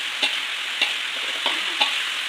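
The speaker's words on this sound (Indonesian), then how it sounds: "kita aduk biar lebih menyusup lagi" Spiced marinated chicken for Indonesian ayam goreng ungkep is stirred in a pan, with four evenly spaced scraping strokes over a steady, close-up sizzle.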